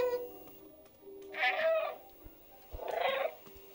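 A cat in the cyberpunk video game Stray gives two separate drawn-out meows over a quiet background hum, with a short pause between them and soft clicks in the gap.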